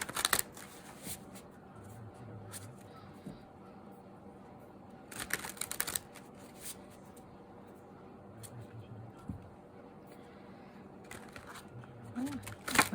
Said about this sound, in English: that was a crappy shuffle